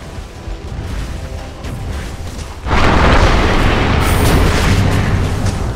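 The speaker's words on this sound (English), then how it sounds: "Dire's bottom tower has fallen." A tower is destroyed in a Dota 2 match, with a sudden loud crashing explosion partway through that swells into a sustained rumbling roar.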